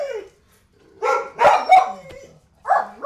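Several dogs bark indoors in a house, sharp close yips and bow-wows coming in bursts with short pauses between them, loud and not masked by talk.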